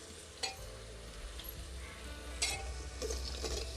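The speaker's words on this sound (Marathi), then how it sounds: "आता मी ज्या भाज्या घेतल्या होत्या सर्व त्यासुद्धा मी आत्ताच ॲड करते त्यामध्ये" Potatoes, cauliflower, green beans and cabbage tipped into a pan and stirred while cooking masala rice, a steady sizzle under soft scraping and clatter, with a couple of sharper clinks midway.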